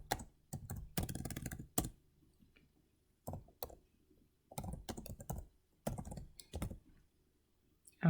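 Someone types a survey question on a computer keyboard: quick bursts of close, crisp key clicks broken by short silent pauses, in a quiet room with no voices.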